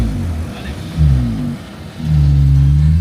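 A Chinese Jeep accelerating in desert sand, a loud, close engine drone that surges and revs in two rising pushes with a brief dip between.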